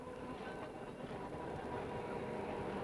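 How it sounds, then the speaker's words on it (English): A South London tram rolls past, a steady rumbling rail noise with faint clattering that holds evenly throughout, fairly near and with no voices. "That sound of the first morning tram used to be a comfort all right then."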